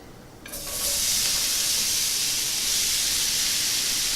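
Celery and white onion drop into melted butter in a skillet, setting off a loud, bright sizzle after a brief quiet start that then holds steady and hissing throughout, with no talking.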